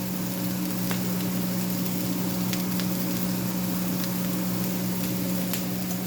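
Seasoned food sizzling and frying in a pan while being stirred toward golden brown, a steady crackling hiss with occasional louder pops, continuous and moderately quiet with no talking.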